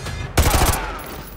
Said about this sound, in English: Roach, take the shot.